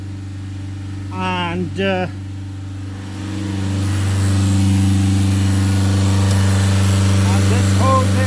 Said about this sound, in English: As you can see, the engine RPM is at 3000 RPM